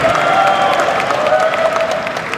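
A crowd of listeners at a Texas A&M football press event claps in a brief, dense burst of applause that holds steady and then tapers slightly.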